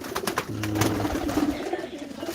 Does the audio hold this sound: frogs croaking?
no